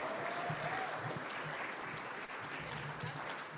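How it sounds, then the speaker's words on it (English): Audience applause at a general session conference, a steady wash of clapping that fills the whole stretch at even loudness with no voices over it. "let's have a warm round of applause for our CDLE"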